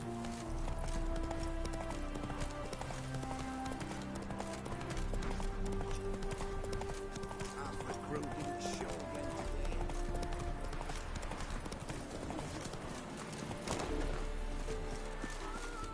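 Roach, Geralt's horse in The Witcher 3, gallops with rapid rolling hoofbeats that run continuously under layered game music and ambience, mid-distance and fairly quiet against the backdrop.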